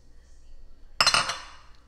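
Spoon or utensil clinking against a bowl while mixing a Russian salad with added egg, a short cluster of bright clinks and scraping lasting about a second after a quiet start.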